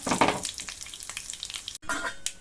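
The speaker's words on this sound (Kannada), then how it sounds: "ಈಗ ಸಾಸಿವೆ ಚಟಪಟ ಇದೆ ಈಗ ಒಣಮೆಣಸಿನ್ಕಾಯಿ ಒಂದು ಒಂದು ಕಡ್ಡಿ ಕಡ್ಡಿ ಹಾಕಿ ಒಗ್ಗರಣೆನ ಫ್ರೈ ಮಾಡ್ಕೊಳ್ಳೋಣ" Mustard seeds spluttering in hot oil while dried red chillies fry for tempering a Mangalore-style Konkani jackfruit sambar, a close, crackly sizzle with sharp pops and the scrape of stirring, briefly cut off near the end.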